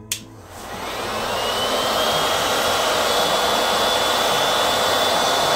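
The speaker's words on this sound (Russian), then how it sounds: "Я подула феном, ну буквально полторы минуты, может быть, чуть больше." A hair dryer switches on with a click and roars steadily for about a minute and a half, drying wax, a loud, close, continuous whooshing hum that holds at one level.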